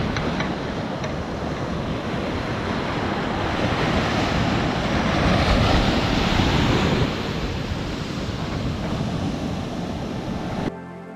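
Ocean waves break and wash continuously onto the golden sand beach at Poovar Island near Trivandrum. The surf roars steadily, swelling through the middle, with wind buffeting the microphone. No one speaks.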